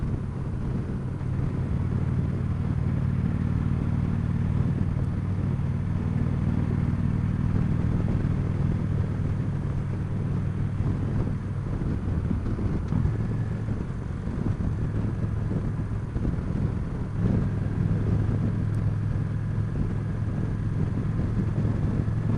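A 2015 Victory Cross Country motorcycle on a ride, its engine droning low and steady beneath constant wind rush, rising and falling gently in pitch across the whole stretch.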